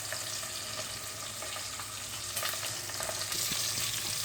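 Cooking oil sizzles steadily with food frying in it, a dense continuous hiss that stays loud throughout, broken by a few small pops and light clicks, with no voices.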